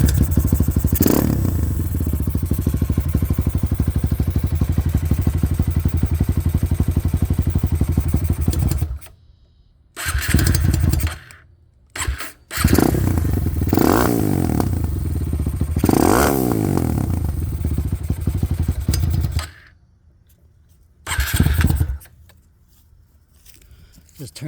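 A Honda XR150L fitted with a 300cc kit idles close by with a loud, rough thrum, repeatedly stalling into silence and firing back up, with clatter between runs and a voice at times.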